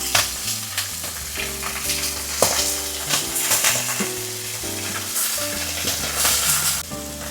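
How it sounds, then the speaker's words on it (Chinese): Threadfin fish pan-frying until crisp gives a loud, continuous sizzle and crackle, with occasional stirring scrapes and music playing underneath. "1分鐘你就煎到恰恰了"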